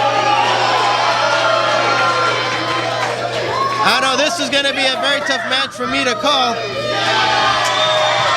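A wrestling crowd at an Empire Wrestling Federation anniversary event cheers and shouts loudly and steadily, with a commentator's voice running over the noise.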